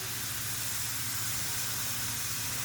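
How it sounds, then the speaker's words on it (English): Beef pot roast searing in a couple tablespoons of oil in a pan, giving a steady, continuous hiss of sizzling fat, fairly quiet and unbroken throughout, with no talking. "sear both sides for several minutes until it is nice and golden brown"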